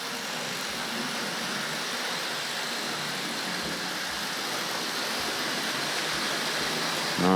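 Hornby model locomotive King Edward I, a GWR 4-6-0 pulling chocolate-and-cream coaches, running on track with a steady whirring rumble, continuous and even with no talking.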